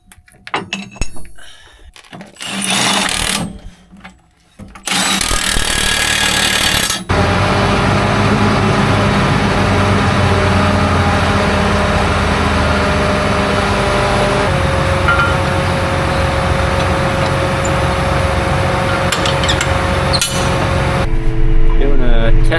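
Fertilizer spreader on a test run with its spinners and apron conveyor going, a loud steady mechanical whir and rattle that runs continuously after a few seconds of clunks and handling noises.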